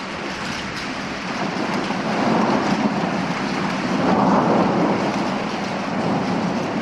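A heavy storm with rain and thunder roars as a dense, steady wash of noise, swelling into deeper rumbling surges at a couple of points and loud throughout.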